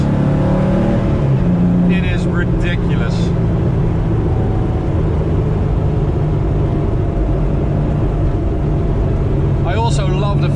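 A 1986 Porsche 911 widebody built by Elmerhaus drives along, its engine a loud, steady droning rumble heard from inside the cabin with little sound deadening, while a person speaks briefly over it.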